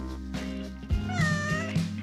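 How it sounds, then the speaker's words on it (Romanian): A cat meows inside a maze built from water bottles, one drawn-out, rising and falling meow that sounds close and clear, with low background hum and no talking. "Lasă pisica să intre!"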